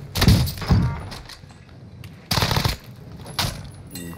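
Pistol shots in a first-person shooter video game, a few sharp bursts of gunfire in quick clusters with gaps between, loud and close.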